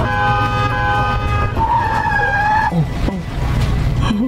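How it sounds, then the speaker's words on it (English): A car horn blares in a sustained honk, then gives a few shorter toots over a rumbling engine. "I'm gonna honk the horn."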